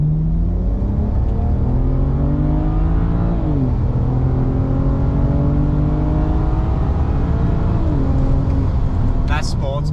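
A BMW N54-engined car with an Alpina transmission flash accelerating while merging onto a highway, its engine droning and rising in pitch through several gear shifts, loud and continuous from inside the cabin.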